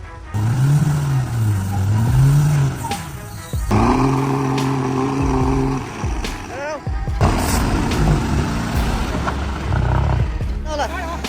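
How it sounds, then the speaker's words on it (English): A tractor engine roars and revs under heavy strain, dragging a loaded log trailer through old forest on a steep climb, its pitch rising and falling in loud, close surges with voices talking over it. "The tractor roars loudly, powerfully dragging the heavy trailer of logs"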